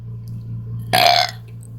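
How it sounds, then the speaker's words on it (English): A single loud burp erupts partway through and lasts about a third of a second, rising over a low steady hum before quiet returns. "Once I burp all this air"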